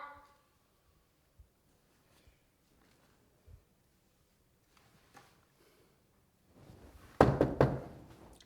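A few sparse, dull knocks on a door in a quiet room, spaced out over several seconds, followed by a louder burst of rustling thumps at the end.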